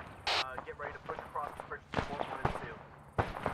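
Bursts of gunfire in the military shooter ArmA 3 crack out in short volleys, some of them distant rattles, while radio chatter and voices keep talking over them.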